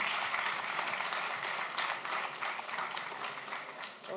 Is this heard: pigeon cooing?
no